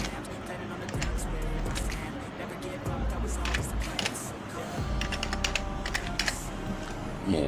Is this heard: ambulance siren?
no